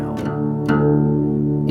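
A guitar in open D tuning rings out with full, sustained open chords, two strums near the start letting low droning strings resonate together.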